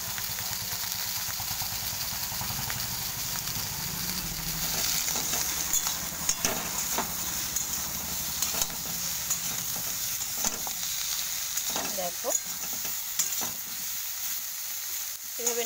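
Bottle gourd frying in a wok (kadai), stirred with a spatula: a steady broadband sizzle with irregular scraping and clinking strokes throughout, and a brief voice speaking partway through.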